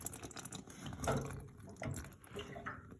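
Water trickling and splashing in short uneven bursts as a radiator valve is slowly eased open to drain it, close by and moderately quiet, with no talk.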